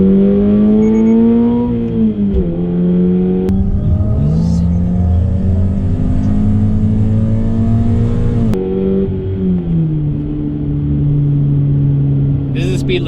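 An automatic Toyota FRS accelerates hard in a street drag race, its engine revving up through rising pitch with audible gear shifts, loud and close from inside the car, while people talk over it.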